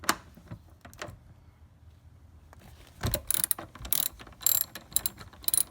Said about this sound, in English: you take a 5/8 of an inch socket wrench, and then you just